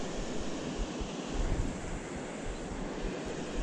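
Water from a small stream rushing into a river at a wild trout fishing spot, a steady broadband wash with gusts of wind buffeting the microphone, close and continuous with no talking.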